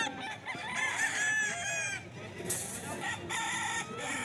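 Gamecock roosters crow in a yard in Bocaue, one clear cock-a-doodle-doo rising near the mic, with clucking fowl and other crows overlapping around it.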